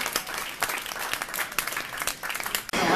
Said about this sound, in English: Round of applause, guys. Round of applause.